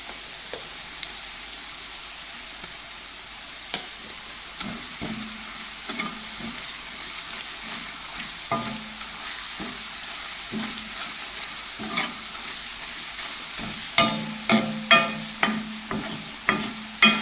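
Masala frying in a pan for a clams fry, with a constant soft sizzle. A spoon scrapes and taps as it stirs, and the stirring sharpens into louder, regular clatters toward the end.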